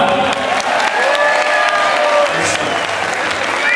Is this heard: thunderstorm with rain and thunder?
no